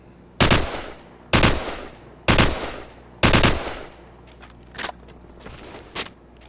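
An assault rifle in Call of Duty 4 fires short bursts, four loud sharp volleys spaced about a second apart, each with a ringing tail, followed by a couple of fainter clicks and thuds.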